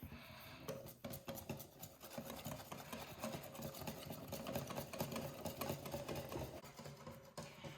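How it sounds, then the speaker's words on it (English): Pancake batter stirred briskly in a bowl, a steady close scraping and swishing with quick rhythmic clinks that run continuously, without talk. "I'm going to start stirring again"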